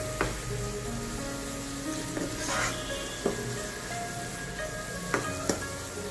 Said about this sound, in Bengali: চিংড়ি মাছ এবং আদা রসুন পেঁয়াজ কুচি সামান্য ভেজে নেওয়ার পর